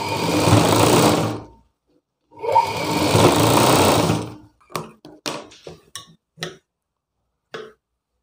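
A sewing machine runs a second line of stitching along a blouse seam in two long, loud whirring bursts, then gives a string of short clicks and taps as the fabric is adjusted, with one last tick at the end.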